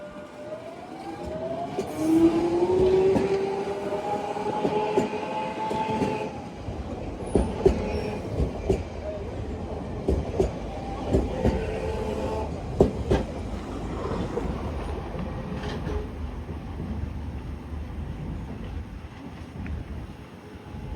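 A London Underground train at Stanmore station rumbles and clatters along the rails with squealing wheels, its steady rolling drone punctuated by repeated clicks and knocks over about twenty seconds, with no talking.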